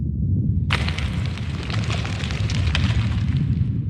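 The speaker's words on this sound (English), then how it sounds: "Basically rumbling and debris falling." A deep, continuous rumble swells in suddenly, with scattered crackles and bits of debris clattering down over it, a Minecraft hazard-increase sound. It is loud and steady, and no one speaks.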